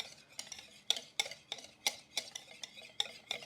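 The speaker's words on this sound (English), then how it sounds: "Whisk until combined." A whisk clatters rhythmically against a bowl while tahini chocolate chip cookie batter is mixed, giving quick, sharp, evenly spaced scraping ticks at close range.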